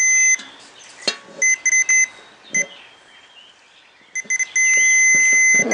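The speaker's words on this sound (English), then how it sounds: "Let's set this to continuity check, and it should beep if there's continuity." A multimeter gives steady, piercing continuity-check beeps in several short and long bursts, with gaps and scraping contact noises between them, and ends in a sustained tone.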